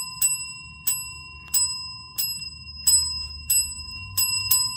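A small hand bell rings nine times at a steady, fairly quick pulse, each strike bright and ringing with clear overtones, close and alone as an imitation of an RS11 locomotive bell.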